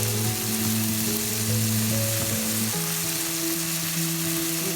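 Codfish and rice frying slowly in a pan on a stovetop, a steady close sizzle with soft crackle running throughout at moderate loudness, alone without talk.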